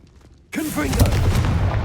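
A Confringo fire spell erupts in Hogwarts Legacy, a sudden loud blast after a brief quiet that rolls into a sustained, rumbling fiery roar with crackling bursts, close and dense.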